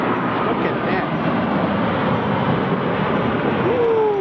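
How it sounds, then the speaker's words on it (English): A large airplane passes overhead, a loud, continuous broadband roar that stays steady throughout with a faint rising engine whine near the end. "God damn, another airplane."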